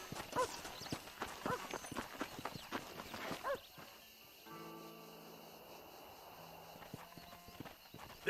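Horse hooves from Red Dead Redemption, a quick run of distinct clip-clop steps on hard ground for about three seconds, then a quieter stretch of music and ambience with a faint voice.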